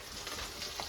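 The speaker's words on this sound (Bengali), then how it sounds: "আমি এদিকে শুটকি ভাজছি" Dried fish (shutki) frying in a pan in a home kitchen, a close, continuous crackling sizzle with a brief brighter pop near the end.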